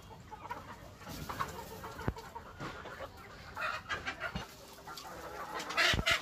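Local free-range hens on a small farm cluck and squawk near and far, with scattered sharp calls and a rooster crowing faintly amid steady background farmyard noise.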